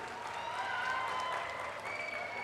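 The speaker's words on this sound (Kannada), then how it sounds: "ಬಹುಶಃ ನೀವೆಲ್ಲ ಚಪ್ಪಾಳೆ ತಟ್ಟೋದು ನೋಡಿದ್ರೆ" Steady applause from an audience at a political rally in Karwar fills the whole stretch, dense and continuous with crowd murmur mixed in.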